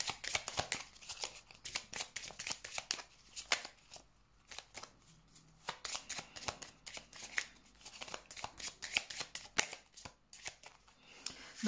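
Tarot cards are shuffled over and over in quick, crisp riffling bursts with short gaps between them, close and fairly quiet.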